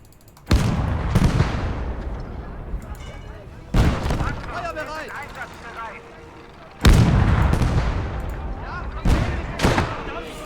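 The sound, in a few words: LEIG infantry gun firing in video game Legion of the Damned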